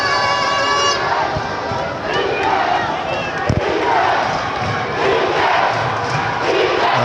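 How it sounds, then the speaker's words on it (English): A basketball crowd at a Kenyan league playoff semifinal between Nairobi City Thunder and Equity Dumas roars and shouts loudly and continuously, with cheering swelling in waves and a commentator's voice mixed in. "And now the crowd has gotten into it."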